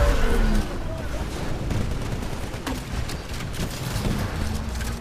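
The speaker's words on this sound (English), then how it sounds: "I try to help out with the arc grenades and mag launcher" Arc grenades and mag launcher fire in Titanfall during an Attrition match against enemy Titans, an opening blast giving way to a steady rumble of gunfire and impacts, dense and continuous throughout.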